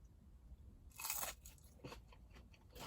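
A single crisp crunch of biting into a fried potato jojo, crispy outside with a Cajun-style seasoning, followed by softer chewing sounds, close and fairly quiet.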